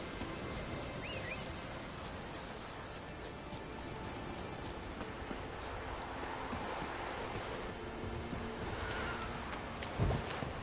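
In The Witcher III, a horse gallops with a steady rhythm of hoofbeats over outdoor ambience, continuous and moderately quiet, with a slightly louder thump near the end.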